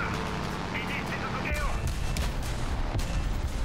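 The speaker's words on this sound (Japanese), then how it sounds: "適当に爆弾ばらまいていくぜ" Bombs dropped from a plane burst across the ground in a War Thunder battle, a run of muffled thumping explosions and crackle layered under steady engine drone, moderately loud with no clear voices.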